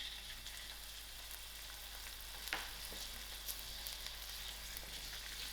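Dried shrimp frying in hot oil in a heated pot, a soft, steady sizzle held at a low level throughout, with a couple of faint clinks or stirring taps partway through.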